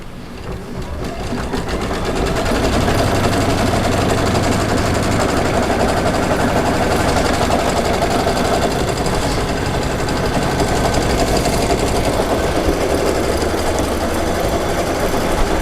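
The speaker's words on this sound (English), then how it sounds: "I'm just going to press the green button to go. This is going to create the placement stitch for the batting." An embroidery sewing machine sews a placement stitch for quilt batting, making a loud, steady, rapid mechanical chatter that runs nonstop after a short start-up, with no talking.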